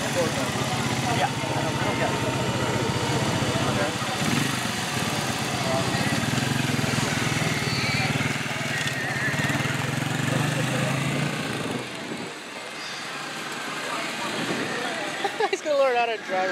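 A motorcycle engine drones steadily at close range for most of the clip, then drops off sharply near the end, leaving quieter rumbling and a few clanks.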